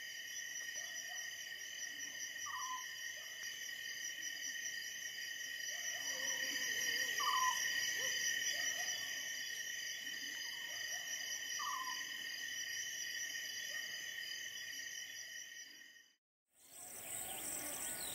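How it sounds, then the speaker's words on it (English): An African scops owl gives short, spaced purring calls at night in the Gambia, repeating every few seconds against a dense, constant chorus of crickets and insects, with a brief silence near the end. "exploring these same tracks one evening revealed this African scops owl."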